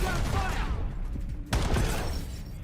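Continuous rapid gunfire from a video-game weapon crackles throughout, with a sharp burst of shots near the middle standing out over dense, busy game noise.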